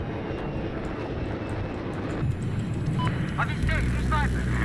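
An enemy airplane in a shooter video game drones steadily with a low engine rumble, joined by scattered gunfire-like clicks and game effects toward the end.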